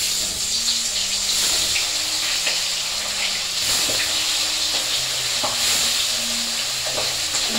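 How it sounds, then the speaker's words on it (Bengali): A pomfret fish fries in a hot wok, giving a loud, continuous, hissing sizzle with scattered pops and crackles that lasts throughout. "দেখো, কড়াইটা গরম হয়ে গেছে, আমি এখন পমফ্রেট মাছটা ভাজবো"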